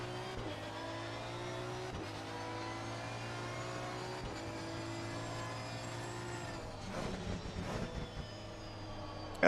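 Porsche Cup race car engine droning steadily in a racing game at Paul Ricard, a continuous mid-level tone with gear shifts and a brief rise in revs toward the end.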